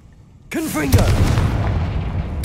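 A Confringo spell blast in Hogwarts Legacy, a sudden booming burst that breaks into a crackling, rumbling roar and stays loud to the end, with a short voice at the start.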